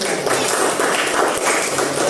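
A classroom of students claps for a group, a brief, dense, continuous patter of many hands at a steady loud level.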